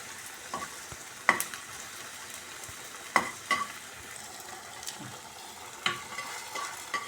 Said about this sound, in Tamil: இதையும் லேசாக இந்த நெய்யில் நல்லா ஃப்ரை பண்ணி போட்டுடலாம்.